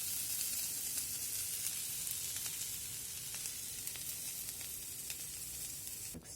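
Faint, steady sizzle of a dosa topped with onion browning on a hot pan, continuous hiss with a few small pops and a brief clatter right at the end.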